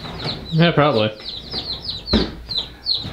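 Chickens clucking close by: repeated short, bright clucks and chirps through the whole stretch, with a brief spoken exchange and a soft knock partway through.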